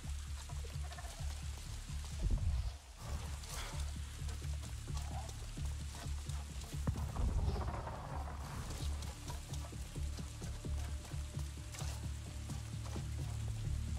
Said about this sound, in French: Ah, c'est beau, la pluie et tout, c'est bien fait.